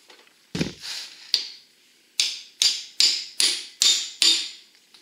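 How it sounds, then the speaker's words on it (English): Eight sharp metallic taps from a small hammer on a Ford Super Duty axle joint bearing cap, spaced unevenly at first and then settling into a steady rhythm, each ringing briefly. "So I'm going to get my smaller hammer for this."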